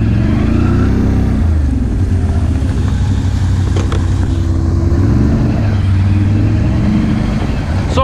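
An off-road vehicle in low four-wheel drive churning through a mudhole at Slades Park, its engine droning loud and close with steady low rumbling and fluctuating revs throughout.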